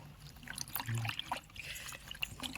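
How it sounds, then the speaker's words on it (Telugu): Water poured into a starch mixture used for stiffening silk sarees, a soft trickling and splashing that comes and goes close by for a few seconds. "కాస్త వాటర్ అయితే పోసుకుంటాను"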